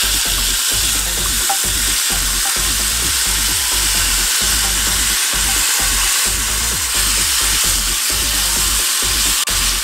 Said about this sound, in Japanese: 鶏皮を焼いていきたいと思います